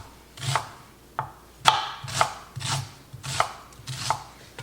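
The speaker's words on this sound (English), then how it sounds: "I'm gonna dice this very thinly." A knife dices a red onion thinly on a cutting board, with about eight crisp, evenly spaced chops heard close and alone.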